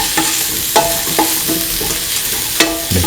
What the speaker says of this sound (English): Mix in the salt.